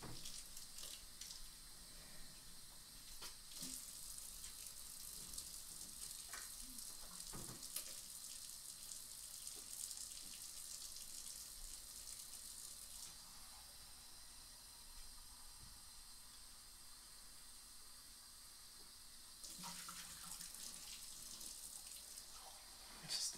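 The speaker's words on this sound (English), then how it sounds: "I am getting water, okay? It has to be 110 degrees at least" Hot water runs from a tap in a steady, faint hiss lasting over twenty seconds, with small clinks and handling noises and brief louder surges near the end.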